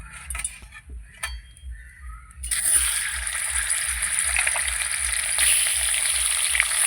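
Rohu fish head goes into hot oil after some quiet clinks, and the oil bursts into a loud, steady, close sizzle that carries on to the end.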